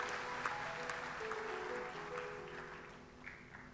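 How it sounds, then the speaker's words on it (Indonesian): A church congregation claps during a Pentecost service, a fairly quiet wash of applause with steady musical tones sustained underneath throughout. "Kasih tepuk tangan yang paling dahsyat bagi Tuhan Yesus."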